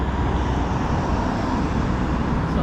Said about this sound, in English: wait for this car to go by so I don't get hit